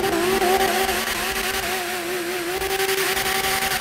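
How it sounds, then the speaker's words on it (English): A Lamborghini Twin-Turbo Performante engine revving in GTA 5, a loud continuous roar with rising and falling pitch and rapid exhaust pulses, close and without talking. "I like the fact that we have so many Lambos and each one of them have a different sound though"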